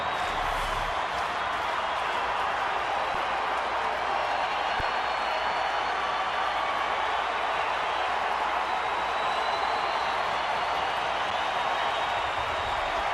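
A large crowd at a nighttime Dodgers–Diamondbacks baseball game roaring and cheering continuously, a sustained wash of noise with scattered clapping throughout.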